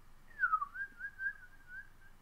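A single person whistles a short, wavering tune imitating a bird's chirp, quiet and close, with no other sounds.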